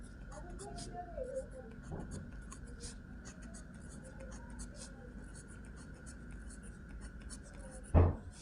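A pen writes out math factors on paper during a Class 8 cube and cube root lesson, giving a faint, steady scratching under a quiet room hum, with one brief louder knock near the end.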